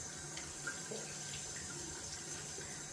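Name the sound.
rinsing hand and soap tub under running tap water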